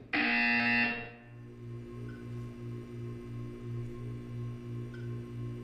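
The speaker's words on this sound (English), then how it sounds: "When you hear the buzzer, look up at the ceiling." A loud electronic buzzer in Portal 2 blares for about a second, then cuts off, leaving a low pulsing hum in the background.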